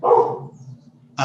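A single dog bark up close, followed by a quieter trailing growl and another sharp bark starting at the very end.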